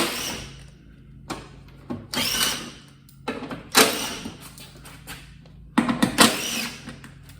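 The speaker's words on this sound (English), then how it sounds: "I've got my little Ryobi impact. Use an 8mm socket to get these 8 bolts out." Ryobi impact driver with an 8mm socket loosening bolts under a 2012 Mercedes S550 (W221) during an oil change, heard as several loud, short ratcheting bursts separated by quiet gaps.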